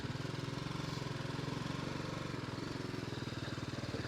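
A BMW 310GS motorcycle fitted with a Rally Raid kit runs its engine, a steady, rapid raspy and tinny putter heard close and fairly quiet, with no talking.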